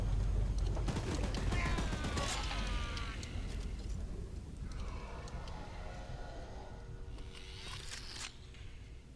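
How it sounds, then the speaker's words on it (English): Gun firing at a demonic monster train in Choo-Choo Charles, a rapid rattling fusillade of shots with mechanical screeches, fairly faint and spread over several seconds. "Careful! Don't let the gun overheat!"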